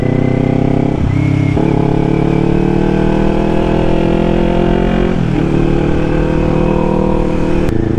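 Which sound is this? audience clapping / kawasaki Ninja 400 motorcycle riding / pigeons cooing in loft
kawasaki Ninja 400 motorcycle riding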